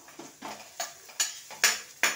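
A spoon scrapes and clinks against a pan as chopped onion and a finely cut green chilli are stirred, with about six sharp metallic strokes at an irregular pace, close and clear, with a faint sizzle beneath.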